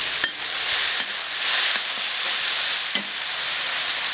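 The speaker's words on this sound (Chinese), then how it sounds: "开始炒料，香菜和姜，加辣椒，加花椒" Coriander, ginger, chili and Sichuan pepper stir-fry in hot oil in a wok, giving a steady bright sizzle with a few sharp scrapes and clacks of the stirring utensil at intervals, close and fairly loud.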